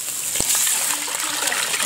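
Water poured into a pot of mutton trotter curry with curry powder, a continuous watery gush with one brief knock near the start.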